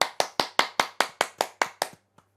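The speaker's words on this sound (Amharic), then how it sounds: "እማማ ዝናሽ አጨብጭቡ።" Hand clapping in a slow, evenly spaced run of about ten sharp, close claps, a couple of faint taps trailing off at the end, with no talking.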